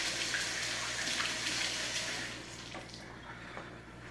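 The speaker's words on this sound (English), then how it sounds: "I'm gonna wash my hands for a second." Water runs steadily from a kitchen tap as hands are washed at the sink, a continuous close hiss that eases slightly toward the end.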